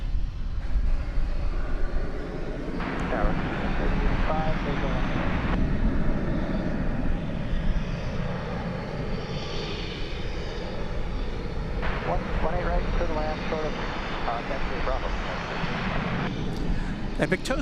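Airliner flight 191 climbing away after takeoff at DFW Airport at night, a distant rumbling engine drone that swells and fades under intermittent radio chatter and talk.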